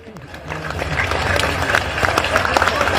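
A large crowd applauds at a religious gathering at Bageshwar Dham, a loud continuous wash of clapping that builds and holds, with a voice calling out over it.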